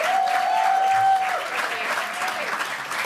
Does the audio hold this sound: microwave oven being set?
no